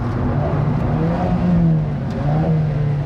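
Alfa Romeo 4C turbocharged engine revving: a steady, loud, close drone with the pitch rising and falling across several swells, heard alone without talk.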